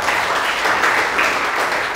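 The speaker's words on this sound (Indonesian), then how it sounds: "Kasih tepuk tangan untuk Tuhan Yesus." A congregation claps together during a church sermon, producing a brief, full burst of close applause that holds steady throughout.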